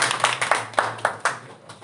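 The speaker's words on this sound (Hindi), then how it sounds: "टॉप 3 सृष्टि जी के लिए एक ताली लगा दे।" A small classroom audience claps for a test topper at a prize distribution, a short burst of sharp, irregular hand claps that thins out after under two seconds.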